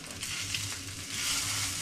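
Homemade sausages fry in a pan with a loud, steady sizzle and crackle. A few soft stirring scrapes come through close up.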